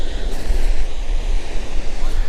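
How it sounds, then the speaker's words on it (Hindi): Clear water sprays and rushes beside a mountain road on the winter route from Uttarkashi to Harsil near Gangotri, a loud, constant, close roar with gusty low rumble. "बिल्कुल क्लियर पानी, रोड तक पानी की बौछार आ रही है"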